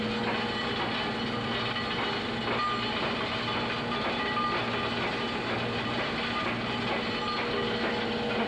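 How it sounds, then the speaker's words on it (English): Coal flows through a conduit into a Williams pulverizer mill, making a continuous rushing, rumbling clatter with a steady industrial drone, loud and unbroken with no voices. "The noise you're hearing is the coal coming from inside the flow and inside the"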